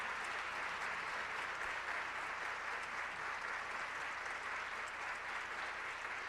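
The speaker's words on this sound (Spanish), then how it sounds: "merecidísimo aplauso." Steady, dense applause from a conference audience at the close of a Q&A session on a panel about learning technology, continuous and loud throughout without voices.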